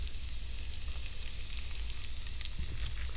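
Cabbage and potatoes fry in a brand-new Lodge cast iron skillet with a constant close crackling sizzle and a few sharp pops.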